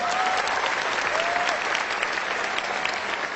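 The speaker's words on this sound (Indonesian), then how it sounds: "Mohon aplaus untuk para pengundang Anda." Seminar audience applauding the inviters, a dense, steady clapping of many hands that carries through the whole moment at a fairly even level, with no talk over it.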